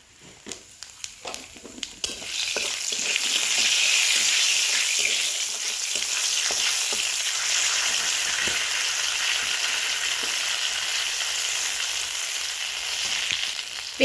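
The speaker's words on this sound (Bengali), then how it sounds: "ওই তেলের মধ্যে অল্প একটু তেল দিয়ে দিলাম। দিয়ে দিচ্ছি তেজপাতা, শুকনো লঙ্কা" Whole spices including bay leaf, dried red chilli and cumin seeds sizzle and crackle in hot oil for a katla fish and cauliflower curry, a steady loud hiss after a few sharp pops at the start.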